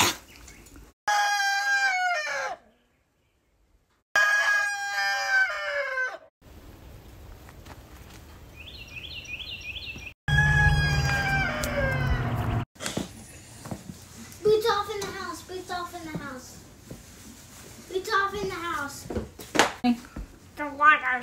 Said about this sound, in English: Brownie the Chicken is trying to get out of my arms